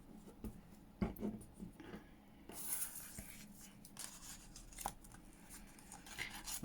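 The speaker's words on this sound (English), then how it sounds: "I've got my little scissors." Small scissors snip through paper in a few short, close cuts with soft rustling and handling noise between them.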